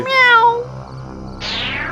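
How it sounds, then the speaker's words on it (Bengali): A cat lets out one loud, close, drawn-out meow, followed by a quieter tail and a brief rising whine, with no talk over it. "ও বিড়াল।"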